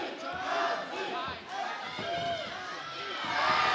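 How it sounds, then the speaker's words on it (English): A crowd at a professional lightweight MMA finals bout chanting for a fighter, a loud rhythmic chorus of many voices filling an arena, with a commentator talking over it. "Crowd getting their LT chant going"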